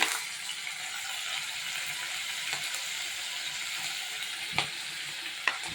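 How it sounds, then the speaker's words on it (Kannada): Mustard seeds, cumin and green chilli fry in hot oil and ghee for dal khichdi, a steady bright sizzle with a couple of faint pops or scrapes near the end. "ಎಣ್ಣೆ ಮತ್ತು ತುಪ್ಪ ಕಾಯ್ತಾ ಇದ್ದಾಗೆ ಒಂದು ಅರ್ಧ ಟೇಬಲ್ ಸ್ಪೂನ್ ಆಗೋಷ್ಟು ಸಾಸಿವೆ ಒಂದು ಟೇಬಲ್ ಸ್ಪೂನ್ ಆಗೋಷ್ಟು ಜೀರಿಗೆನ ಹಾಕ್ಕೊಳ್ತಾ ಇದ್ದೀನಿ"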